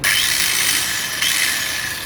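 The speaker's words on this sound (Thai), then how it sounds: "ตัวที่สองก็เป็นหินเจียพี่ตัวนี้ เจ็ดร้อยสิบวัตต์นะพี่นะ" A 710-watt electric angle grinder runs steadily with a high, harsh whine, close and loud, alone without talk.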